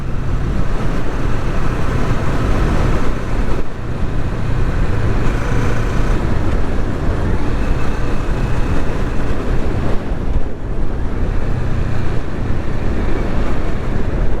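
2021 Kawasaki Vulcan S motorcycle on the road: a steady loud engine drone heard up close, mixed with heavy wind rush and road noise, without pauses and with no talking.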